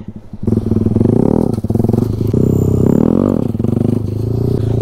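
A motorcycle engine is held at steady high revs with rising surges during wheelie practice by a women's freestyle stunt group, loud and close throughout with a brief dip midway.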